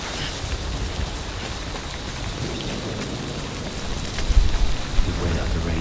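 Steady heavy rain hisses across everything in the Death Stranding game world, with a low rumble of thunder swelling partway through.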